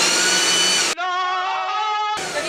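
A leaf blower roars loudly and steadily, cutting briefly to a whining, tonal motor pitch before returning to full broadband rush.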